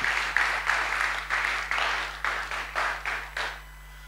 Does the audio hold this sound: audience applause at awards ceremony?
yes